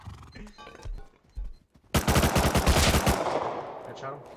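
Rapid automatic gunfire in a first-person shooter game, a loud sustained burst of overlapping shots that starts abruptly after brief player talk and fades out over a couple of seconds.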